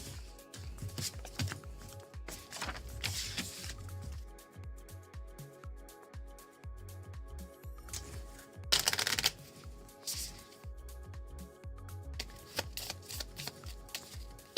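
A deck of playing cards is riffled and bridged several times during a tabletop card game, with crisp bursts of fluttering cards between quieter handling and soft taps, close and alone.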